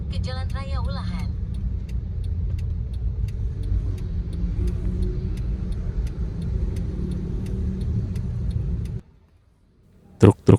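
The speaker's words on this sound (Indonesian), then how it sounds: "Truk-truk besar mulai mendominasi jalan. Suara mesinnya bergemuruh pelan, memecah keheningan pagi." Large trucks on a main road between Jepara and Yogyakarta give off a low, steady engine rumble heard from inside a moving car. It holds evenly for several seconds, then cuts out into near silence.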